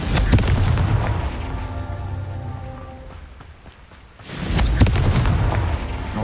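A Confringo spell blast in Hogwarts Legacy: a loud booming explosion with crackling debris that fades, then a second heavy burst about four seconds later, with no speech.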